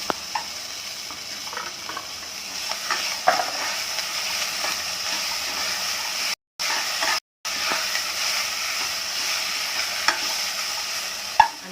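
Tomatoes frying in a pan with curry leaves for a drumstick vegetable dish, a steady close sizzle and hiss with scraping stir strokes throughout, briefly cut out twice.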